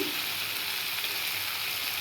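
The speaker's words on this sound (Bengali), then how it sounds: "তারপরে টমেটো দিয়ে এই যে শিম দিয়ে কষাচ্ছি" Tomatoes and green beans sizzle steadily in a hot pan, a constant crackling hiss with faint stirring and no voices.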